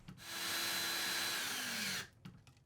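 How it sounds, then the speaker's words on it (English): A power drill whines steadily for about a second and a half while driving a screw into a Toggler wall anchor, the motor pitch dipping slightly under load before it stops, followed by a few faint handling clicks. "and then driving in the screw."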